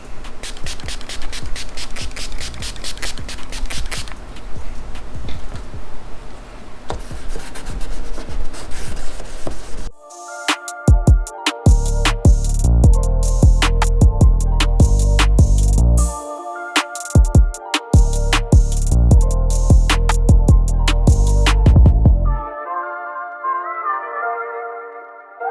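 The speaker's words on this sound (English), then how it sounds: "Then we're gonna do number 2 sandpaper on the opposite direction." Hand sanding with number 2 sandpaper, worked against the earlier grain direction, gives repeated scratchy rubbing strokes at close range, first as a continuous rasp and then as sharper, rhythmic back-and-forth passes.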